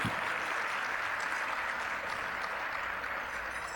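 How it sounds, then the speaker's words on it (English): Applause from an awards ceremony audience, a dense and even wash of clapping at moderate distance that holds steady throughout with no speech over it. "Give her a round of applause regardless."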